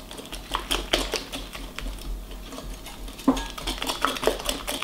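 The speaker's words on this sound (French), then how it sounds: "À ce mélange, on vient ajouter 50 g de farine. On vient mélanger." A utensil clinks and scrapes against a bowl while beaten eggs and flour are mixed, a quick irregular run of close tapping strokes with no talking.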